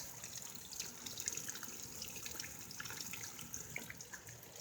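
Rainwater running from a gutter during heavy rain, a faint steady trickle and splash with small drips scattered throughout.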